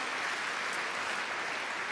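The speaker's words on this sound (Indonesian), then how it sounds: "Tepuk tangan bagi Allah kita." Church congregation applauds in a steady, fairly faint wash of many hands clapping together, continuous and even, with no distinct individual claps.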